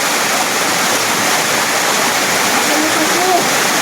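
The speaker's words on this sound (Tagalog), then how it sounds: "Ayan falls, oh." A waterfall at Hulugan Falls in Luisiana, Laguna during the dry season, a loud, constant rushing roar of falling water close by, filling the whole clip without a break.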